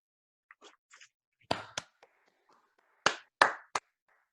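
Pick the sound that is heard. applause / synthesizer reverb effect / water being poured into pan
applause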